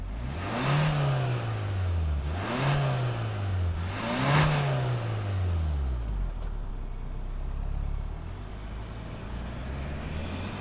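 A 2024 Hyundai Santa Cruz XRT pickup engine revs up three times in rising and falling sweeps, then settles to a steady idle rumble with a faint high whine, loud and close.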